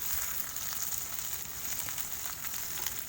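Egg masala ingredients with chopped greens fry steadily in a pan, a continuous soft sizzle with faint crackles, alone and without talk.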